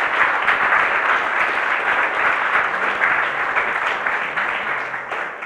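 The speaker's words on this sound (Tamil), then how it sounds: "அதுக்காகவே அற்புதமாக ஒரு கைத்தட்டல் உங்களுக்கே கொடுத்துக்கலாம்." A hall audience at a Tamil debate event gives students a loud round of applause, dense continuous clapping close to the microphone that tapers off in the final second.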